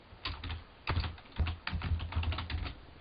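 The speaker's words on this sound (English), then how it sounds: "So I can just type federated, and as I type, it's actually doing the search" Rapid keystrokes on a computer keyboard as a search query is entered, a steady run of close, crisp clicks with brief pauses and no talk.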